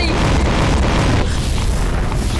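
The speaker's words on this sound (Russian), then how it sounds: "Ой, сейчас будет 6 взрывов" A massive explosion in Garry's Mod, one of a chain of six blasts, fills the clip with a loud, continuous roaring boom that slowly thins out.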